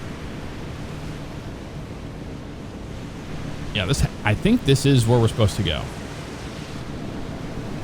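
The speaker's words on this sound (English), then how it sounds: "We're getting all the waves on there." Ocean waves wash steadily around a Coast Guard cutter in a video game, a constant surf-like hiss with a brief stretch of talk in the middle.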